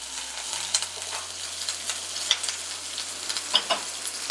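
Curry leaves, green chillies and urad dal sauté in a pan for ragi idli, a quiet steady sizzle punctuated by several light stirring taps and scrapes, with no voice.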